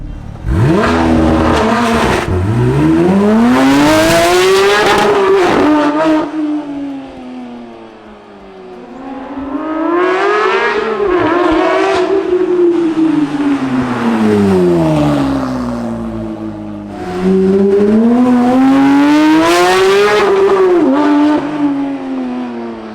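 A Porsche GT3 engine is revved hard three times, each pull climbing to a high, screaming wail before falling back to idle, loud and close with no talking.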